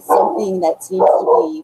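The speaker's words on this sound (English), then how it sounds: "I'm sorry about the dogs, guys." Dogs bark in two loud, close bursts, tangled with someone speaking over them.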